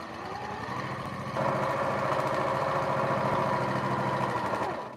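A sewing machine runs a long seam along a funky patchwork cushion, a continuous steady mechanical whirr close by that grows louder as it speeds up, then slows and stops near the end.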